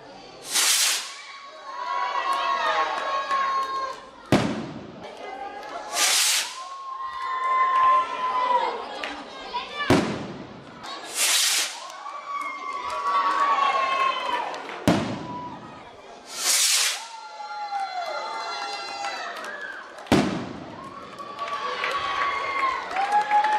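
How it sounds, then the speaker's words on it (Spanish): Festival rockets launched from a town hall to open a youth festival in Autol, La Rioja, five sharp bangs at roughly five-second intervals, each followed by a trailing rumble and a crowd cheering and whistling. "hasta 4 cohetes se lanzaron desde el Ayuntamiento de Autol el pasado viernes para dar comienzo a las fiestas de la juventud"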